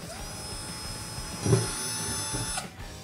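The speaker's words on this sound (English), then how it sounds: "First thing we're gonna do is just drill some holes to help our screws go in." A power drill whirs steadily as it bores holes into a wooden torch pole for a film prop, a sustained high whine rising and cutting off after a couple of seconds over background hum.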